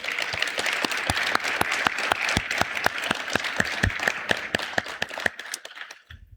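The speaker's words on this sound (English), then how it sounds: "Would you please join me in a round of applause for the In-Space Semiconductor Manufacturing and Operations team" An audience claps for a university space-manufacturing team at a suborbital flight event, a steady round of applause with distinct sharp claps standing out over the crowd's continuous patter, fading briefly at the close.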